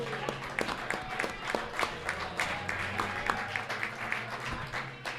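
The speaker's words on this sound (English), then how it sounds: "We can give a round of applause again." A round of applause from a small audience at a basketball podcast taping, steady scattered clapping that runs through the whole stretch with some crowd murmur mixed in.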